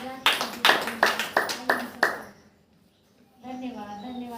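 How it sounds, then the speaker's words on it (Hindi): A congregation at a Saturday church prayer meeting claps hands in unison, about seven sharp, evenly spaced claps, followed by a brief pause and then a voice speaking. "ताली बजा के"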